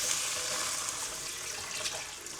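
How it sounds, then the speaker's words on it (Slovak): Water pours steadily into a pot of vegan corn soup, a continuous close, hissing splash that runs unbroken for a couple of seconds with no voices. "Samozrejme je to polievka, takže pridám vodu."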